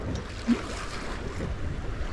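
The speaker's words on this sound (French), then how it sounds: "On a une mer avec beaucoup de vagues, beaucoup de houles croisées." Steady wind rushing with a low churning wash of waves in a heavy crossed swell at sea, continuous and fairly loud, like open water heard from a moving boat.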